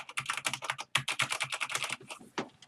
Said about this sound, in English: the keys actually feel really good to press down